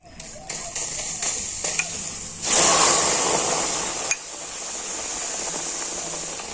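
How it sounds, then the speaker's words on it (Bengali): Semolina and milk dough being stirred in a pan, a steady scraping and sizzling texture with a louder burst of hissing midway, close and continuous without talk. "আর এখন আমি কন্টিনিউ এইভাবে নাড়াচাড়া করে একটা শক্ত ডো তৈরি করে নেব"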